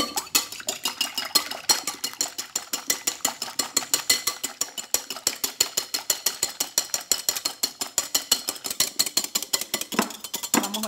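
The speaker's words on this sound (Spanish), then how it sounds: "Pasamos a batir las claras." Egg whites beaten with sugar for a corn cake, a fast rattling rhythm of beater clicks against the bowl, steady and close, running continuously for about eleven seconds without talk.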